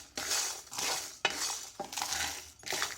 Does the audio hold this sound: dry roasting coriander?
yes